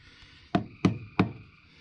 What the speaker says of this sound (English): knock on plastic